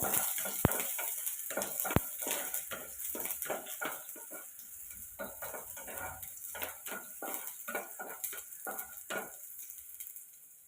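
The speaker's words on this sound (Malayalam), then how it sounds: "കുറച്ച് ചുവന്നുള്ളി ഇടുക. അത് നല്ലപോലെ മൂക്കുന്നത് വരെ ഒന്ന് വഴറ്റുക." Shallots sautéing in a pan right after mustard seeds have popped, with steady sizzling and repeated sharp clinks of a spoon stirring against the metal, close and alone.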